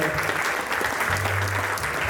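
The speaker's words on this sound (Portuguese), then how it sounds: "Forte salva de palmas a Catarina, a Dona Joana e o Dr. Mário pela" Audience applause at an HR conference in Angola, a steady dense clapping from a seated crowd that fills the whole moment without a break.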